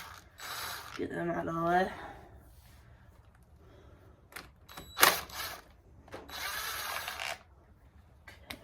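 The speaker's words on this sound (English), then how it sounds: "now we're gonna just get this power valve off, so we need to loosen these bolts" A ratchet works loose the power valve bolts on a Kawasaki KX100/KX85 two-stroke engine during teardown: a few short metallic clicking bursts, close by, between stretches of someone talking.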